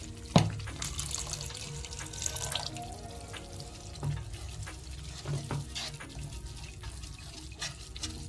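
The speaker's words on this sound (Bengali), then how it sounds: "এবার আমি মাপ পরিমাণে জল দিয়ে দেবো।" Water poured from a tap or jug into a pan of cooked-down masala for Afghani malai egg tikka curry, a soft running splash with a few drips and clinks, close and steady, no talk.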